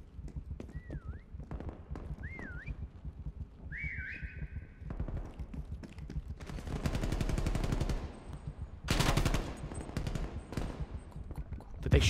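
Gunfire in the Prop Hunt video game, heard as a burst of rapid shots in the middle and a loud blast near the end, mixed with game clip-clop, whistle-like tones and other effects.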